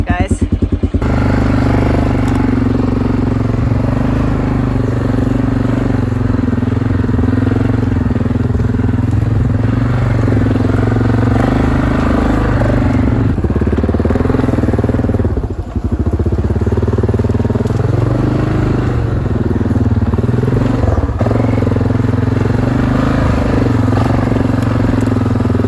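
A quad bike (ATV) engine runs during a ride, a loud, continuous rough drone with a rattling edge that holds steady for the whole stretch with only slight dips.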